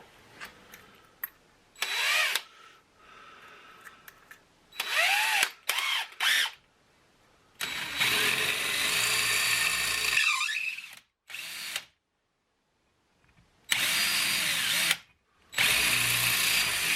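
A power drill with a 3.5mm bit whirs in repeated bursts while building a Trio 9R-59DS communications speaker, some short and some sustained for several seconds, with pauses of near silence between them.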